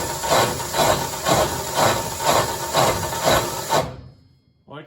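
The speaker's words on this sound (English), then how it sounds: "let's run it with the drill and see if it's actually going to do anything" A homemade wood chipper with a welded tube, unsharpened and spun by a power drill, makes a loud rhythmic rasping whir that pulses about once per second, then stops abruptly.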